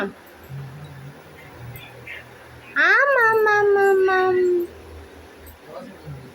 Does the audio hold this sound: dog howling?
yes